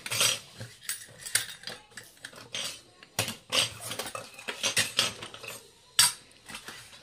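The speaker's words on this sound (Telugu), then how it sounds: "స్పూన్ ఇందులోనే పెట్టేద్దాం" Small metal spoons and tiny utensils from a miniature toy kitchen set clink and clatter close up, being placed one after another into a little container in quick, uneven bursts, with no talking.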